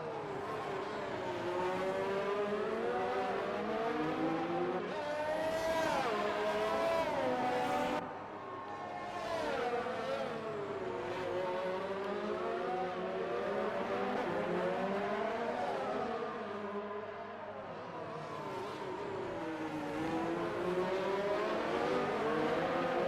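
Onboard engine of a Formula 1 car in a PS4 racing game at Baku, loud high-pitched revs climbing and falling through gear changes and braking, heard alone without voices.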